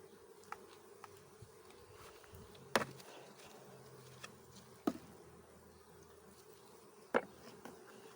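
Honeybees hum steadily as a merged hive colony is opened, a faint continuous buzz with a few sharp clicks and knocks from handling the hive.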